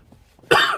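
A single harsh cough bursts out after a near-silent stretch during a spoken religious talk, loud and close, trailing off briefly.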